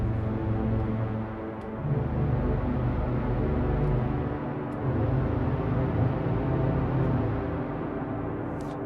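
A Sonicware Texture Lab granular effects processor turned to a deep setting with the blend raised, giving a dense, steady low drone with a grainy, shifting texture and a little reverb. It sustains unbroken at a fairly loud level with no voices.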